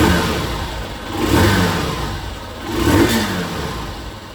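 A Hero Super Splendor Xtec 2.0 125 motorcycle engine and chrome-covered exhaust revs steadily from idle, with two swelling throttle blips rising and falling over a continuous mid-pitched engine drone, close by and with no speech.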